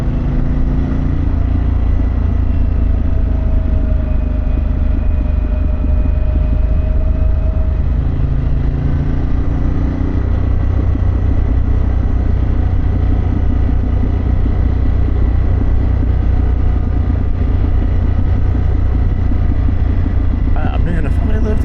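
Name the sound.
Indian Challenger motorcycle exhaust while riding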